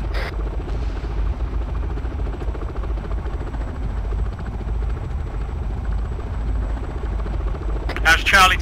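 Helicopter rotor and engine drone in a military training mission video game, a loud steady thrum running throughout under voices calling out team orders.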